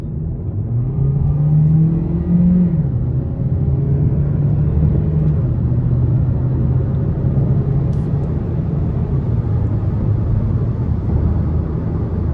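A 2025 Hyundai Sonata Hybrid SEL in sport mode pulls hard from inside the cabin, its engine note rising and holding in a loud, steady drone with tyre rumble underneath for the whole stretch.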